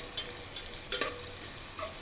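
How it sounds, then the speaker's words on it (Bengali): Chopped onions fry in hot oil for hilsa pulao while being stirred, a quiet sizzle broken by a few light spatula scrapes and clinks. "তেল গরম হয়ে আসলেই আমি এখানে 1 কাপ পেঁয়াজ কুচি অ্যাড করে দিচ্ছি। পেঁয়াজটাকে খুব ভালোভাবে নেড়ে চেড়ে বেরেস্তা করে নিতে হবে।"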